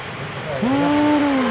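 Heavy, nonstop rain pours as a dense, loud hiss throughout, while a voice speaks over it.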